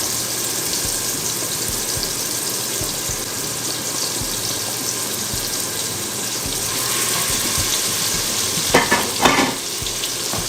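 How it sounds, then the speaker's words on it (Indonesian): Ground spice paste hits hot oil in a pan and sizzles steadily, with a few louder stirring scrapes and bursts near the end. "Dimasak, tumis sampai harum ya."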